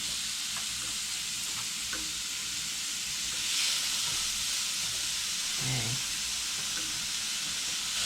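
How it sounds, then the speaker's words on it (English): Thai turkey burgers sizzle steadily on a hot electric grill, a constant close frying hiss with a few faint clicks and a brief low clunk midway. "Sizzle away."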